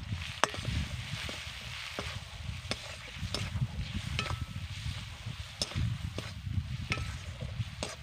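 A spoon scrapes and taps repeatedly in a pan while spices for a bata fish curry are stirred, soft regular strokes over a low, faint sizzle.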